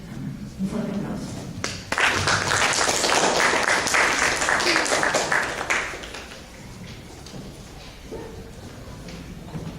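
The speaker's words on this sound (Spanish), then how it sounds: "Un fuerte aplauso." Applause for an archaeologist presenting on Inca impact at Pachacamac, a burst of clapping swelling after a thud and tapering off, with room noise and faint voices around it.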